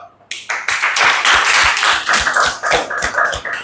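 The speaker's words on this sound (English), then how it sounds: "Clapping for her." Claps for a student in a classroom, a short burst of sharp, close hand claps in an uneven rhythm from a small group, loud against a quiet room.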